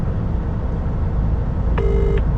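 Telephone ringback tone played over a speakerphone while a delivery driver calls from a truck with a mounted forklift: a single short tonal burst near the end, over steady low engine rumble, with no talking.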